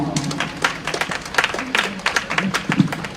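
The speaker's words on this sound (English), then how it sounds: "please, another round of applause for Ama" An event audience at an impact investing dialogue gives scattered applause, with soft claps over a few seconds and a voice talking faintly underneath.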